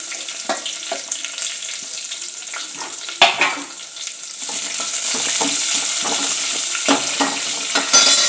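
Mustard seeds, cumin and chillies fry in hot oil for dal, a loud steady sizzle with scattered crackles and pops that grows denser and brighter about halfway through. No speech is heard.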